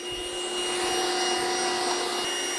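Trifo Maxwell 2500Pa budget robot vacuum cleaner running steadily at close range, a continuous whirring hum with a high-pitched motor whine, as it climbs over a laptop on a floor scattered with metal washers.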